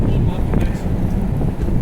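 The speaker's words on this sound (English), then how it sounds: "It's windy." Cold wind blows hard across a microphone on a Halifax street between Scotia Square and Gottingen Street, making a steady, loud, rumbling roar that fills the whole moment.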